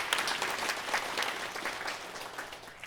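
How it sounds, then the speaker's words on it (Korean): A church congregation claps for the choir in a dense, sustained burst of applause that slowly tapers off, with no voices over it. "박수 한번 하겠습니다."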